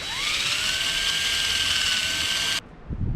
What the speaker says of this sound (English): Do a little rust removal in here.